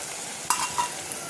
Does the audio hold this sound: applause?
no